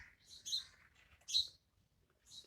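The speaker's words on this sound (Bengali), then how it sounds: "কি সুন্দর পাখিগুলো ডাকছে।" Birds chirp outdoors in the early morning on a quiet street, a few separate high tweets and short calls with brief silences between them, fairly near and otherwise calm.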